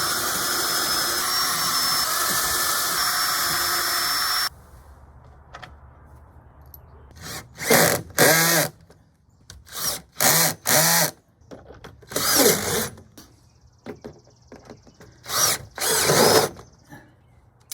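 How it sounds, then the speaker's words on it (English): A power drill bores a pilot hole into a wooden deck for a catio post, a loud, steady whine for several seconds up close, followed by short whirring bursts with pauses between them. "Now we'll drill a pilot hole or two."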